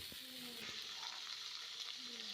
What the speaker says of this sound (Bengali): প্রথমেই আমরা ভালো করে ইঁচড়ের সঙ্গে আর সমস্ত মশলাটাকে ভালো করে কষিয়ে নিতে হবে